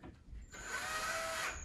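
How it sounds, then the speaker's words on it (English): A power drill drives hardware into wood for a living room feature wall, with a short quiet lead-in, then a steady, close, high-pitched motor whine that runs continuously and tapers slightly at the end. "You drill it down in."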